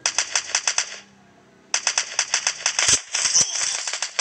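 Automatic gunfire in a shooting video game rattles in rapid bursts, pauses briefly and then resumes in sharp, loud, evenly spaced volleys close to the listener.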